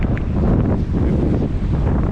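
Heavy wind buffeting the microphone on a bridge during fishing in the UK, a constant low roar with no pauses.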